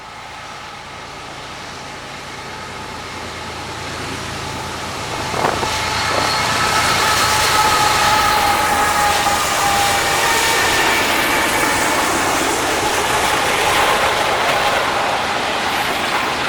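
A manifest freight train with a six-unit locomotive power move approaches on the southern transcon and rumbles past, the roar swelling and then holding steady with rail squeal and clatter, loud and close, with no speech.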